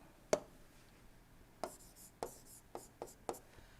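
Chalk or marker tapping and scratching on a board during a lecture, six short distinct strokes spaced irregularly, faint and close in a quiet room.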